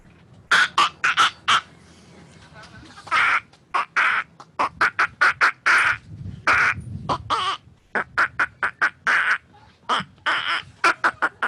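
A person imitates a duck call live on stage, producing a rapid series of loud, close, raspy quacks and squawks in bursts with short pauses, with no talk over it.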